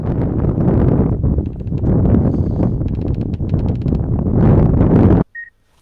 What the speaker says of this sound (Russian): По-моему, даже ветер усилился.